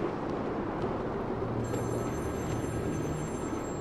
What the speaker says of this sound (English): Who's calling in the middle of the night?